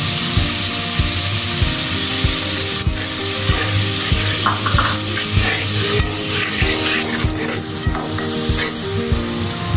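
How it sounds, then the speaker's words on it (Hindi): Masala is stirred into chicken frying in a karahi for achari chicken, giving a loud, continuous sizzle with steady rhythmic scraping and clanking of the spoon against the pan throughout, with no voices. "अब मैं इसमें मसाला डाल दूँगी।"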